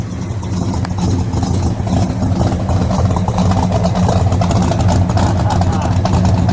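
A 1970 Oldsmobile 442 W-30 tribute car's engine idles with a low, steady rumble, close and loud, holding an even drone for several seconds.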